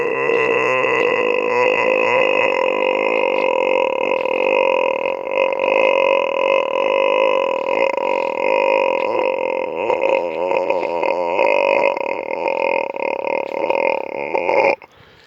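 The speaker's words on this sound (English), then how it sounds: "maybe let's have a burping" A person lets out one very long, continuous burp, loud and close, with a strong droning tone that holds for about fourteen seconds before cutting off abruptly.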